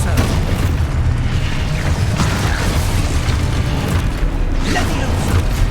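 An Expulso exploding spell goes off in the Hogwarts Legacy video game, giving a dense, continuous roar of rumbling blasts and mechanical clatter amid busy combat effects.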